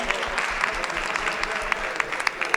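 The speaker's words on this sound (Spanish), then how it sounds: "también un aplauso fuerte para Maite" An audience applauds a doctor on a public-health panel, a dense, steady wash of many hands clapping close by, with a few sharper individual claps standing out near the end.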